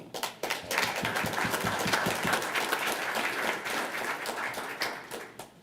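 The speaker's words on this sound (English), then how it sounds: "Let the applause continue" An audience at a regular school board meeting claps steadily and densely for over five seconds, a sustained wash of applause with no talking over it.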